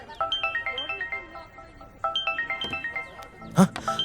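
A melodic ringtone plays in repeating bursts, pauses, then starts again, with a short clatter near the end.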